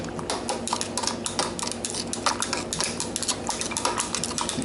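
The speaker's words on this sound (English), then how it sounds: "Give that a bit of a stir." Metal scraping and clinking inside a brewing pot as a spoon stirs IPA wort, a rapid irregular clatter that goes on without pause and with no voices.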